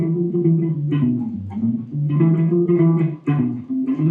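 An electric guitar with effects runs through a short chord progression with an added 2 chord, several strummed chords held in turn, close and loud with no voices.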